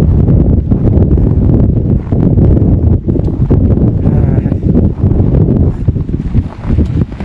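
Strong gusts roar across the microphone at high-altitude Tilicho Lake, a loud, unbroken low buffeting that dominates throughout with brief dips between blasts.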